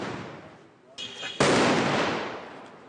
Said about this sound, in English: Did you have to make these explosions so loud?